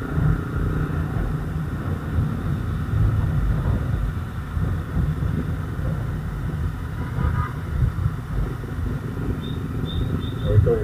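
Motorcycle ride with a Royal Enfield trailing behind: steady low engine rumble and wind buffeting the microphone run continuously, with a rider's voice talking over the noise.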